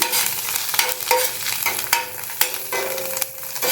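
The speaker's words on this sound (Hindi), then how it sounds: "अब इसमें मैं डालूँगी धनिया और मिर्ची। इसे मैं थोड़ा फ्राई कर लूँगी।" Coriander and green chillies fry in a pan, a close, continuous sizzle broken by the scrape and clack of a spoon stirring at irregular intervals.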